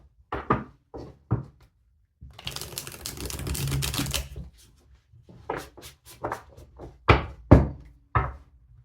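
Tarot cards are shuffled by hand: sharp taps and knocks of the deck on a surface, then a two-second riffling rush, followed by more irregular close clicks and thumps.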